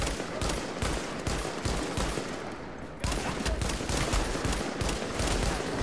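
Gunfire in The Division's Dark Zone, rapid automatic shots rattling continuously and loudly, briefly easing near the midpoint before resuming at full intensity.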